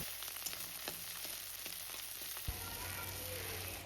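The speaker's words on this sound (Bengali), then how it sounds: "আর একটু পরিমাণ কাঁচা সর্ষের তেল দিয়ে এই মশলাটাকে কিছুক্ষণের জন্য একটু ভেজে নেব" Spice paste fries quietly in raw mustard oil, a faint steady sizzle punctuated by a few soft taps and scrapes of stirring, with a low hum in the background.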